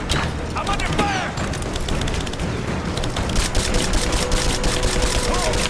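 In the video game Rise of the Tomb Raider, loud gunfire crackles in rapid bursts and fusillades, with booming impacts layered over a constant battle din while characters shout in the background.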